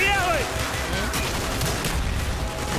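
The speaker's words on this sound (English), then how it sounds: "Grenade launcher?" Grenade launcher fire in Call of Duty: Black Ops, dense booming and crackling combat noise that stays steady throughout, with a brief voice at the start.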